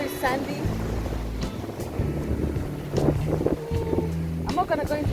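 Ocean waves wash up on a sandy beach at Mombasa, a close, rushing swell of surf under gusty wind noise on the microphone, and a person speaks over it briefly.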